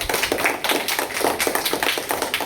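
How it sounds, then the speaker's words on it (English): Clapping applause from a group honoring Indian soldiers, a brisk run of close, sharp claps in a quick irregular rhythm lasting a couple of seconds. "So give round of applause for all our great Indian soldiers."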